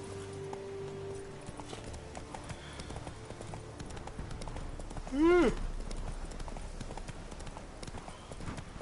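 Horse hooves clip-clop steadily through the clip, with a brief whinny partway and game-style background sounds.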